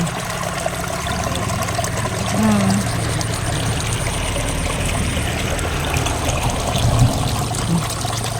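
Water flowing and trickling steadily outdoors after heavy overnight rain where fish are being netted, a continuous close wash of running water with faint occasional voices beneath it.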